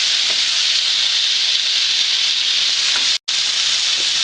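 Steak and potatoes sizzle loudly and steadily in a hot pan, a constant frying hiss with a brief cutout near the end.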